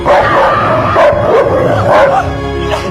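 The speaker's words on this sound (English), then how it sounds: "The crazy dog comes out again." A dog barks loudly and close up in a quick run of yips and barks, mixed with whining, high-pitched howl-like sounds, with no speech.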